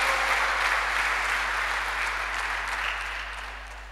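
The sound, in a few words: audience applause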